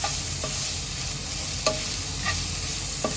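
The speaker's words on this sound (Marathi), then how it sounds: "ह्याला 2 मिनिटापर्यंत परतून घेतलंय मी" Potato paratha filling sautéing with turmeric in a pan over a medium flame, a constant close sizzle broken by a few sharp spatula scrapes and taps.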